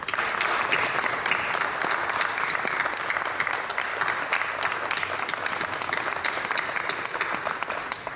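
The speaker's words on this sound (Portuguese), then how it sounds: "uma salva de palmas em sua homenagem" Applause in tribute from the audience at a researchers' assembly in a hall, a continuous, moderately quiet wash of many hands clapping without letting up.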